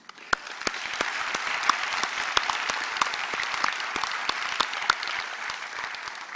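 An audience at a university graduation ceremony applauds award winners, starting abruptly and holding a steady, full wash of clapping with crisp individual claps popping out near the microphone.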